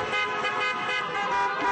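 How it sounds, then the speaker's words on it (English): Car horns honking in a downtown street at night during a crowd gathering, several overlapping horns blaring together in a steady, continuous chorus close by, with traffic noise underneath. "Car horns blaring right after the vote, and 5 hours later still honking"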